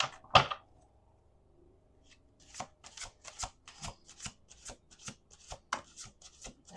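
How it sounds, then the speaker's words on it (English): Tarot cards are shuffled in a run of quick crisp riffling snaps that starts after a sharp tap and a near-silent pause, with no talk. "Let's do 2 more shuffles."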